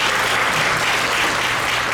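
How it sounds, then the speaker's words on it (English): Audience at a Thyagaraja Utsavam music program applauds the performers with dense, sustained clapping, loud and steady throughout. "Give a round of applause for them."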